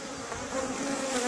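Honey bees swarm around an open hive in a steady, close, continuous buzz that swells slightly toward the end, with drones among them.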